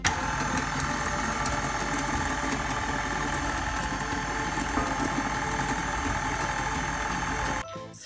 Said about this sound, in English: as the mixture starts to thicken, we're gonna increase the speed of the mixer